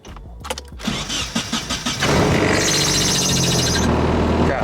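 A Nissan 240SX engine cranks a few times, catches and revs up, with a high squeal from loose or worn belts that continues while it runs.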